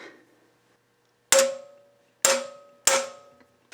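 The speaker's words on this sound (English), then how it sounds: "So it's easier just to use an impact driver." Three sharp, loud metallic bursts from an impact driver loosening tight screws on a Subaru during rear main seal work, each a quick clattering hit that rings off, spaced about a second apart, with quiet in between.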